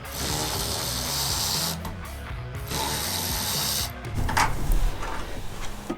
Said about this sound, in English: I love these electric ratchets because they save a ton of time.